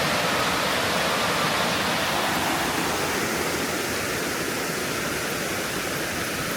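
Water of the Fall Creek cascades pours in a steady broadband rush, heard from a footbridge and continuous throughout with no talk.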